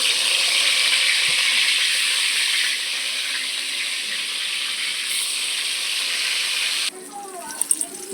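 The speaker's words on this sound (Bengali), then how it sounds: "কড়াই গরম হয়ে গেছে তেল দিয়ে দিলাম এবার একটা একটা করে ভাজাগুলো করব আগে বেগুনগুলো ভাজবো বেগুনগুলো দিয়ে দিচ্ছি" Eggplant slices fry in hot oil in a wok, giving a loud, steady, broadband sizzle close up that runs continuously, then drops in level near the end with a few faint clinks.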